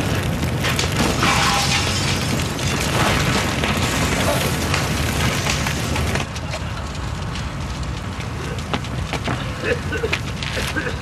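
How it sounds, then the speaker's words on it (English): A staged mini nuclear explosion effect from the TV drama Casualty: a loud, booming blast with crackling, splintering debris and a rumbling tail that thins out partway through. "so they give us a mini nuclear explosion"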